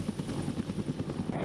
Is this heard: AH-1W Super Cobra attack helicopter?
yes